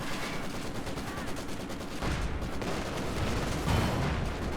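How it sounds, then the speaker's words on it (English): Su-85 tank destroyer firing in the World War II strategy game Company of Heroes 2, a steady barrage of close, loud gunfire and booms in dense battle noise, with a heavier blast near the end. "Su-85 opening fire on them"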